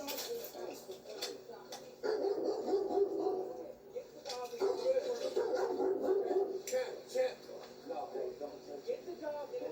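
A dog yips and barks in short excited bursts close by, mixed with whimpering, while people talk over it indoors.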